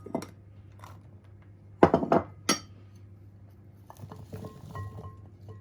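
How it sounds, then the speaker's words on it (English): Chicken pieces and vegetables are tipped into a tray and mixed, with a few close clinks and knocks against the tray in short bursts over a low steady hum, and quieter scraping sounds afterwards. "Just tip it all in, and we're going to mix them all together"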